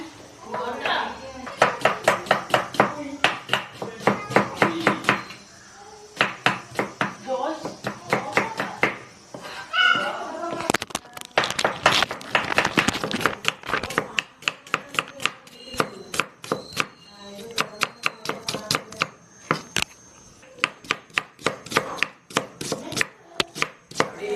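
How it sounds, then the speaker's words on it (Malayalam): A knife chops small onions on a board in quick rhythmic runs of sharp, close taps with brief pauses, while people talk over the chopping during cooking for a large devotional meal. "അപ്പോൾ നമ്മൾ ഉള്ളി വെട്ടുകയാണ്"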